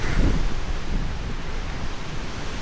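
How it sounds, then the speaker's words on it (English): Gusting wind buffets the microphone outdoors at Dryburgh Abbey or Jedburgh Abbey in Scotland, a low, rumbling roar that swells and eases without pause, with no voices. "It's getting a bit windy."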